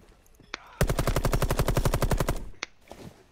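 Rapid automatic gunfire in a shooter video game rattles in one loud, sustained burst of evenly spaced shots lasting almost two seconds, with a single sharp shot before it and another after it.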